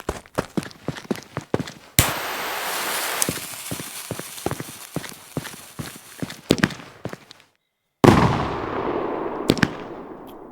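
A string of Chinese wala firecrackers in a fireworks simulation game goes off in rapid, uneven bursts of sharp cracks, with dense crackling runs and brief silences. The pops are loud and near, with no talk.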